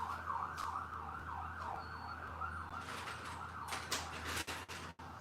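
A rapid yelping siren warbles continuously at mid distance, over a low rumble of street noise with a few clunks near the end.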